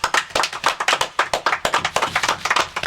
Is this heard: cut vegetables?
no